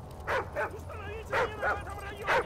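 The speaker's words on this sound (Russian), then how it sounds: "Отряд противника использует собак. Они приближаются к вашему расположению." Dogs barking in Call of Duty Modern Warfare 3: several sharp yips and barks in an irregular series, mid-distance, over a low steady background rumble.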